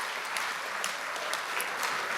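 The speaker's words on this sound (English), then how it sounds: "Give a round of applause to the crew," An audience at a gala show applauds the stage crew, steady dense clapping filling the whole stretch at moderate level with no voices over it.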